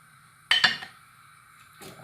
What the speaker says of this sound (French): Hop, je mélange bien.